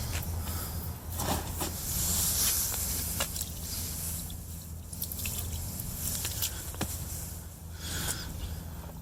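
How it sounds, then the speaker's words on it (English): Water poured onto pink R13 fiberglass house insulation about four inches thick gives a steady, close hiss with wet splashing and squishy dripping as the batt soaks up the water, running continuously without any talk. "I'm going to put some water on it and we'll see how that goes."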